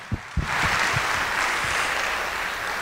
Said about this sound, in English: You're going to want to keep applauding